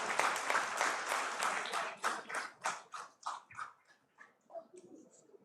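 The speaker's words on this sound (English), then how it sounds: "Ladies and gentlemen, a huge, huge round of applause." Audience applause at a road safety seminar in Chandigarh during a memento presentation on stage, a loud burst of many hands that thins into scattered claps and fades out.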